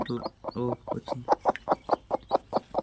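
Hen clucking close by in a rhythmic series of short, repeated clucks, about a dozen evenly spaced pulses, with a person speaking briefly at the start.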